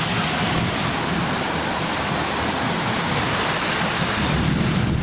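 Heavy early-April rain pours steadily with a deep rumble of thunderstorm thunder underneath, a dense, constant wash of sound.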